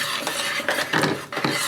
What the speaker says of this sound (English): continuously stir this.